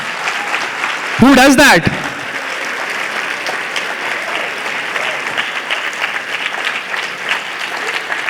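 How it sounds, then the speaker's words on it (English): A seminar audience at Vishwapreneur'23 applauds, a sustained, dense clapping from a room full of people that runs throughout, briefly overlaid by a loud close voice near the start. "I want all of you to stand up and clap for yourself."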